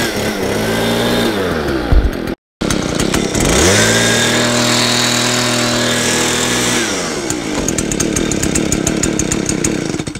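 A handheld gas leaf blower engine runs loud and close with a rough idle, its pitch sagging and surging, cutting out for a moment and then picking up again before settling into a choppy, buzzing run.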